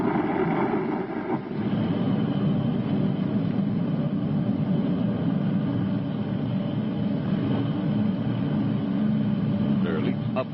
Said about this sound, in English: Thrusting forth tons of energy, the huge rocket engines drive the Space Patrol ship deeper into space